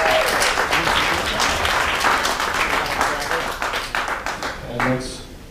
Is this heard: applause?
yes